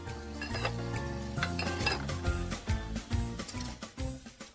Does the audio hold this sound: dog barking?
no